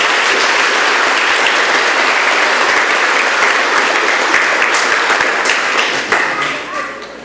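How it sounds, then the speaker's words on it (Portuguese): Loud, sustained applause from a church wedding congregation right after the rings are exchanged, dense clapping filling the space and tapering off near the end, with some voices mixed in. "Vamos aplaudir bem forte."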